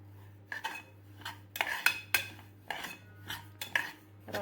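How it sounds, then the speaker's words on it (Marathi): Dalia (broken wheat) dry-roasted and stirred in a pan, a close series of separate scraping and clinking strokes from the spoon over a low steady hum. "पहिल्यांदा हा दलिया भाजून घ्यायचा आहे।"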